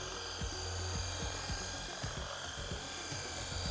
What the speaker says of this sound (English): they'll follow up with like a dual action polisher like this to do a fine polish